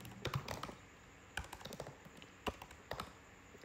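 Commands typed on a computer keyboard, with quiet, irregular key taps in short bursts and pauses over a faint room hum, no voices.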